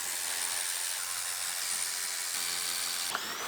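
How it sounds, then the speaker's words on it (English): Power tool working on the wheel liner of a wrecked 2019 Ford Explorer Limited, a steady high whirring hiss running throughout at close range, with a brief sharp change near the end. "Now we'll unbolt the wheel liner from this side."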